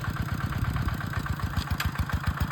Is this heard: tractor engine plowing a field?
yes